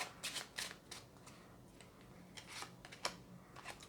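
A tarot card being handled and laid onto a spread, producing soft close card slides and light papery flicks in a few quick bursts over quiet room tone, with no talking.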